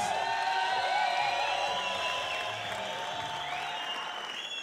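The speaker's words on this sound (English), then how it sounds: "please make some noise for both of our boxers" A crowd at an amateur boxing championship night applauds and cheers for both boxers after an eight-round bout, with sustained dense clapping and a hall-wide roar that fades slightly toward the end.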